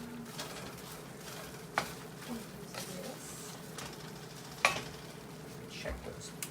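Sausage roux cooking in a cast iron pan, a soft continuous sizzle broken by a few scraping stirs and light clinks of a utensil against the pan.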